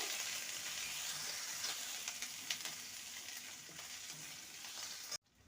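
Ginger and green chilli paste frying in a pan, a loud continuous sizzle with scattered stirring scrapes, cutting off abruptly near the end.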